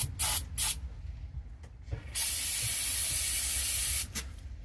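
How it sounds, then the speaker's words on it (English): Carb cleaner sprayed onto an old Toro snowblower that sat unused for years: short hissing bursts at the start, then a long steady aerosol hiss for about two seconds, close to the mic, with no talk. "Better spray some carb cleaner up that part too while I'm at it."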